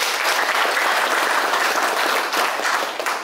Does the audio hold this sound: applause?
yes